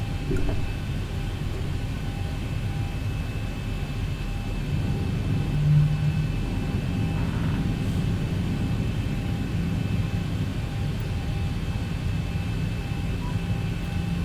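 A Boeing 737-800 in the X-Plane 11 flight simulator makes a steady, moderate engine roar and low rumble throughout its takeoff roll, with one brief swell partway through.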